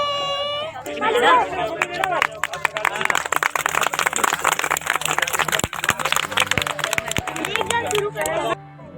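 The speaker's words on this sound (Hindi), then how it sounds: "ताली बजाओ, ताली बजाओ।" Guests at an engagement ceremony clap in scattered, uneven bursts amid lively crowd chatter and overlapping voices, close and fairly loud, with the babble continuing throughout.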